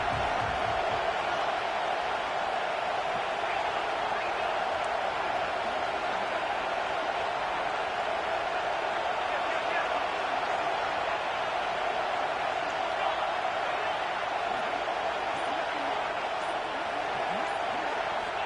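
A broad, steady roar of the Alabama Crimson Tide crowd at Saban Field during a third down against Ohio State fills the whole stretch, dense and continuous without letting up.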